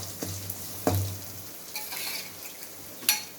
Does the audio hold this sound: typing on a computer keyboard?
no